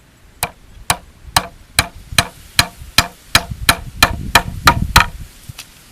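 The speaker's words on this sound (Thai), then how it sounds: "เดี๋ยวผมจะตอกให้ดูเลยนะครับ" A hammer drives a nail into bamboo with about a dozen sharp, close knocks, evenly spaced at first and then coming slightly faster and heavier toward the end.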